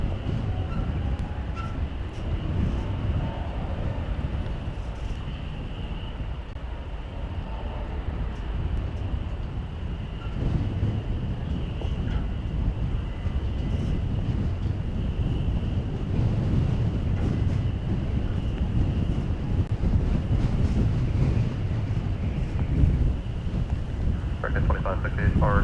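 A Frontier airliner taking off at DFW Airport, a broad steady jet roar that stays loud and continuous throughout, mixed with strong wind buffeting on the microphone.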